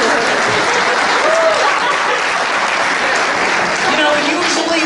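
At a Buick Discovery Tour event, a crowd bursts into loud, dense applause that holds steady for several seconds, with faint voices mixed into the clapping.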